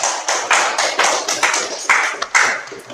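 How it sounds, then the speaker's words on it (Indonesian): A classroom group claps for a presenting group, giving steady, fairly loud applause of overlapping hand claps that lasts throughout. "tepuk tangan dulu untuk kelompok 2"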